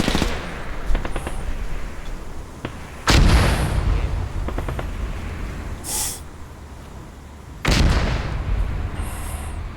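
German vehicle machine gun firing in ARMA 3 during a Normandy battle, heard as several heavy booming bursts with sharp onsets and long rumbling tails, alongside lighter rapid rattles, loud and near.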